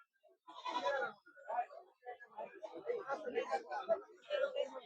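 Goats bleat repeatedly at a goat and sheep market in Talegaon Dhamdhere, a string of close, loud, wavering calls overlapping one another.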